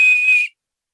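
Small keychain emergency whistle, also fitted with a beer bottle opener, gives one steady shrill blast lasting about half a second and stopping abruptly, followed by silence.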